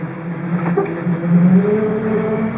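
A 1958 Chevrolet Bel Air engine runs loud and close while the car backs up in reverse, its note rising briefly. No voices.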